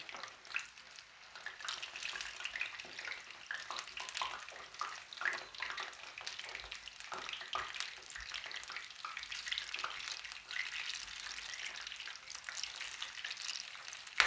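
Eggplants fry in a pan for a Turkish bostan kebab, a steady, close sizzle and crackle running throughout with occasional stirring scrapes.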